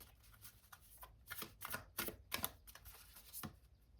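Tarot oracle cards are shuffled by hand in quick, soft riffling bursts that repeat in a loose rhythm, close but very faint, with no voices.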